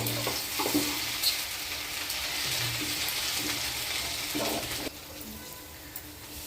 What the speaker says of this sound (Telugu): వెల్లుల్లిపాయలు వేసుకున్నానండి. కొంచెం వెల్లుల్లిపాయలు వేగితే